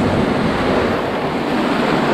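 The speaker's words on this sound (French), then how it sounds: "c'est quoi ces vagues dévastatrices?" Powerful sea waves pound a shore in Thailand as the tide comes in, a loud, continuous roar of surf and wind buffeting the microphone, with no voices.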